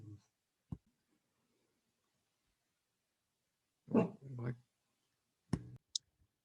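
A pet dog barks in a quiet room, a few sharp, close bursts separated by long silences.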